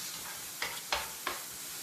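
Jarred, already-fried tomato sizzling in a pan as a sofrito for lobster rice, a steady close hiss broken by three sharp scraping stirs of a utensil, with no talking.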